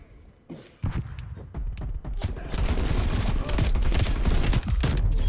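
Rifle fire in Call of Duty Black Ops Cold War, an M16 blueprint in play, with a few separate shots and then a dense, loud burst of overlapping gunfire that keeps going to the end.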